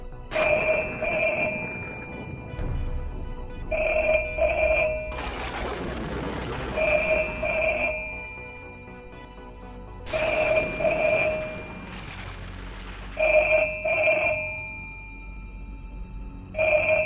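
A telephone rings inside a house, several repeated electronic ring bursts of about a second each with pauses between them, clear and fairly close, with eerie booming noises swelling in between.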